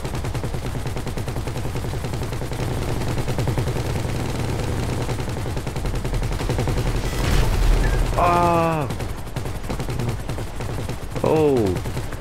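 Rapid automatic gunfire rattles continuously in a GTA 5 Online heist raid, steady and moderately loud, while brief shouted voices break through near the end.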